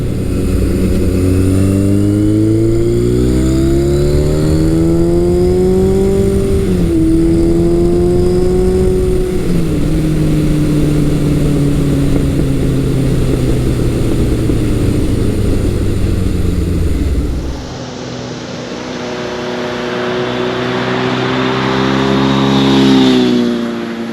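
A classic Kawasaki superbike engine revs up through the gears with rising and falling engine tones, loud and close, then drops to a lower drone before building again as it accelerates away.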